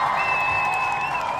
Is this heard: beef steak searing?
no